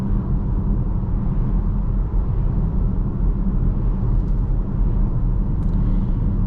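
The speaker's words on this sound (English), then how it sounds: "Now there is just a little bit of tire noise going on" Tire noise inside a 2023 VW Tiguan SE R-Line on the move: a continuous low, droning road roar filling the cabin, steady throughout with no voices.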